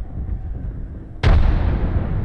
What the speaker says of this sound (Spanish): Granada de fragmentación